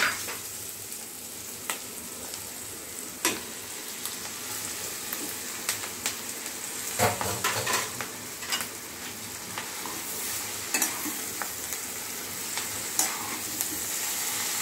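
Mixed noodles being tossed and stir-fried with ingredients in a pan: a steady sizzle with scattered scraping clatters from the spatula, close up and with no talking.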